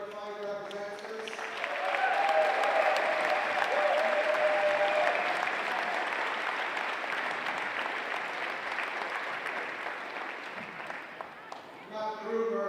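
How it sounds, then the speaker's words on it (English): Sustained applause from a crowd at the World Wallball Championship, rising quickly and holding steady for several seconds before a voice returns over the fading clapping. "a big hand to the American team that traveled, 35 representatives"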